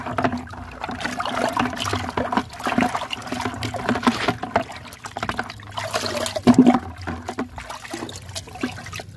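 Water splashes and trickles onto soil and pak choi plants in uneven pours, gurgling and spattering nearby with brief louder gushes.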